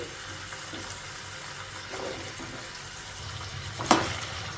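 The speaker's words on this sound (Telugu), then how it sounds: "నూనె వేడెక్కిందండి ఇప్పుడు ఈ బంగాళాదుంప ముక్కల్ని కొన్ని కొన్ని వేసుకుంటూ మీడియం ఫ్లేమ్కి హై ఫ్లేమ్కి అడ్జస్ట్ చేసుకుంటూ క్రిస్పీగా వచ్చేటట్లు" Potato pieces fry in hot oil over a medium-to-high flame, a soft steady sizzle with occasional crackles and one sharper pop near the end.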